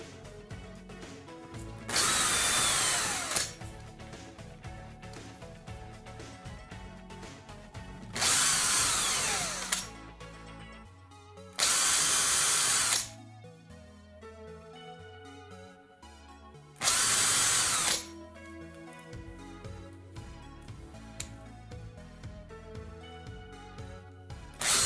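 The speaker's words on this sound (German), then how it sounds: "Jetzt habe ich mal so ein paar 2 mm Löcher gebohrt." Power drill boring 2 mm holes in an N-scale model railway module, four short high-pitched whining bursts of a few seconds each, separated by quiet pauses, close up.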